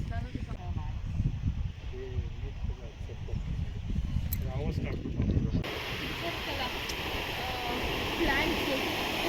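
Water rushing out of Chikli Hole dam in Coorg, a continuous broad roar that holds steady throughout, with a brief voice underneath at the start.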